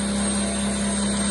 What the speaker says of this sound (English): we're just going to start it so you can start to see the motor spin.